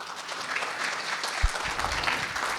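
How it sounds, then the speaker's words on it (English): An indoor audience applauds at the close of a panel session on ancient Indian history: continuous, moderately loud clapping from many hands, with a low thump partway through. "So a big round of applause again for both Anuja and Nilesh, sir."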